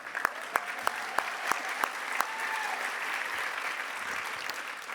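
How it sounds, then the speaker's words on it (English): A dinner audience applauds steadily, many hands clapping together, with a few sharp individual claps standing out near the start. "Yeah, we can clap again."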